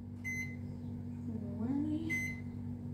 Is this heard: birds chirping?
no